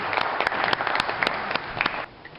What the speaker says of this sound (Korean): 이 두 분께도 여러분 같이 한번 박수 주시면 좋겠습니다